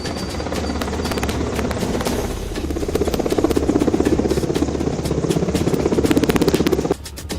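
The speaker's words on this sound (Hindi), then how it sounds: "लखनऊ के आसमान में जब इंडियन एयरफोर्स के MI-17 हेलीकॉप्टर की गड़गड़ाहट सुनाई दी" An Indian Air Force Mi-17 helicopter's rotor roars loudly and steadily overhead over Lucknow during a mock drill, with a rapid, pulsing thump, then abruptly drops in volume near the end.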